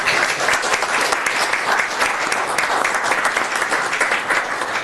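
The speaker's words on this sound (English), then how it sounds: "That's worth a round of applause." Sustained audience applause fills a city council meeting chamber in Glendale, a steady, dense wash of many hands clapping at even loudness throughout, with no talk over it.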